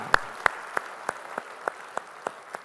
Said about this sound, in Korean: 우리 찬양받을 주님께 영광의 박수 올리겠습니다.